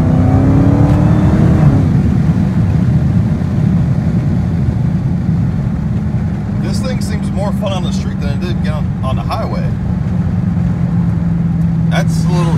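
A widebody Dodge Challenger Hellcat's engine accelerates with a loud, sustained drone and rising whine from start to finish, while a voice talks over the second half.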